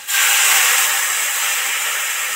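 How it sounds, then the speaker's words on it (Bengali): Water hits a hot pan of frying spices with a sudden loud hiss, then keeps sizzling and steaming steadily up close. "এবার জল দিয়ে দেব।"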